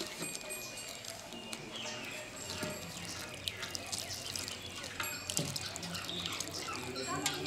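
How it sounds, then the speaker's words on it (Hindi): Water pours and trickles steadily into a plant pot of freshly planted gladiolus corms, with soft splashing and drips against a busy background. "अब मैं इसमें पानी डालूंगी"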